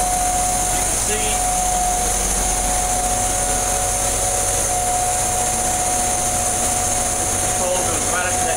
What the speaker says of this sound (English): Just fired up the generator. There she is sitting there running.